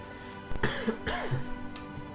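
A person coughs twice in quick succession, close and moderately loud, with a faint hum in the background.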